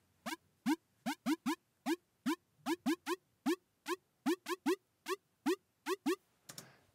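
Synth riser built in Logic Pro X, its notes climbing a half step each measure: a steady run of short, plucky synth notes in an even rhythm, quiet and alone, closing on a brief noisy swell.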